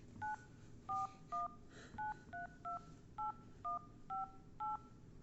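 A smartphone dials out to a house phone, sounding a rapid run of about ten distinct two-tone keypad beeps spaced evenly, clear and close over a faint background hiss.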